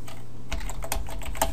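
Computer keyboard typing while entering JavaScript for an HTML5 sticky-notes app, a steady run of quick, close key clicks with small bursts, no talking.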